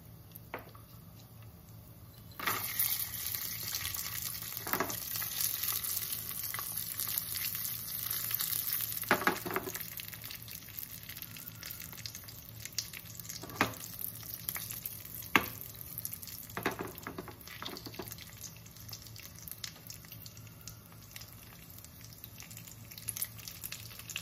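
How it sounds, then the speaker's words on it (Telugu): Grated carrots for carrot halwa fry in a pan with a steady, close sizzle, broken by occasional stirring scrapes and small clinks throughout. "ఇప్పుడు మనం వీటిని ఫ్రై చేసుకుందాం."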